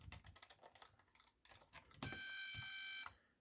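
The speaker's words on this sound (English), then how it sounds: "Hear the clicking sounds as the clock goes down." A 1979 Fonas 3 in 1 Sports handheld electronic game makes rapid quiet clicks as its game clock counts down, then a steady electronic beep tone sounds for about a second.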